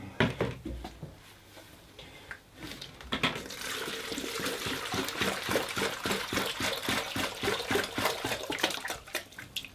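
Water from a 10 litre tub poured into a 2.5 litre paint kettle on a workbench; a few knocks and handling sounds first, then a steady splashing, gurgling pour that grows fuller as the kettle fills.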